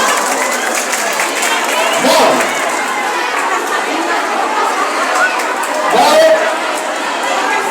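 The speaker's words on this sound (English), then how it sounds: "Give it a round of applause." A large crowd of students at a school Children's Day event claps and cheers loudly and continuously, a dense wash of applause with a few louder swells.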